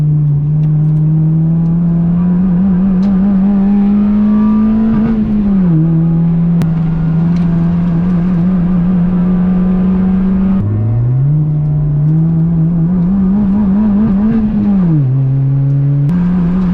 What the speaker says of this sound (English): The car's like bogging. It's not really a misfire.